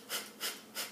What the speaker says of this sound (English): what the breath of fire is it's in and out through the nose